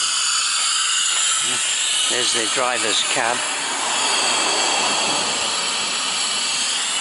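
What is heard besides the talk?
Fairbourne miniature railway steam engine hissing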